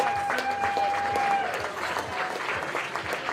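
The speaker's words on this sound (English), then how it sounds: "Stuprich should receive a nice round of applause when he departs the mound here momentarily" Steady crowd applause ripples through a ballpark at a high school baseball game as a pitcher walks off the mound, loud and continuous throughout, with a few whistles and faint voices mixed in.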